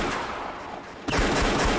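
Dense, continuous gunfire roars from the visual novel Rose Guns Days in a fierce exchange across a hotel elevator hall, growing louder and harsher after about a second.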